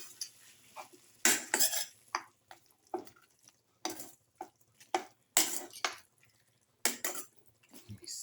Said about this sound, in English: Put in salt to taste, thoroughly mix.